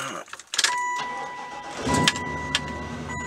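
A Chevy Impala engine cranks over and catches, a short burst of starter and ignition noise settling into a steady running rumble, loud and close with no talk.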